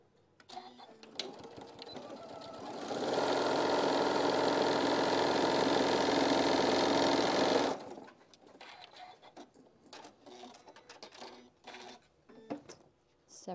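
A sewing machine runs loud and steady for about five seconds, sewing fabric pieces down for a petal quilt block. Quieter clicks and fabric handling sounds come before and after it.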